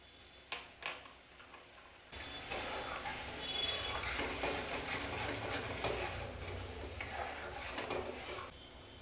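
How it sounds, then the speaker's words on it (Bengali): A spoon scrapes and stirs vegetarian navaratan korma in a pan, starting with a few sharp clinks, then a continuous close scraping and sizzling churn that runs until near the end. "নাড়াচাড়া করতে হবে, তা না হলে তলায় ধরে যাবে।"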